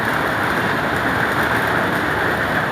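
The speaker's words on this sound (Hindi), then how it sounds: "काफ़ी ज़्यादा बारिश हो रहा है" Heavy rain pours steadily and loudly throughout, a dense continuous hiss with no pauses and no voices.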